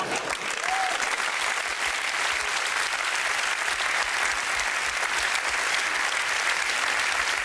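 A studio audience at a German late-night talk show applauds, with dense, steady clapping that stays loud throughout.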